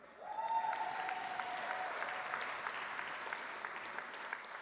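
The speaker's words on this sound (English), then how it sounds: "Let's see if you're still clapping at the end" An audience at a union congress applauds, a sustained wash of clapping that swells quickly and holds steady, fairly distant and alone, with a brief whistle-like tone at the start.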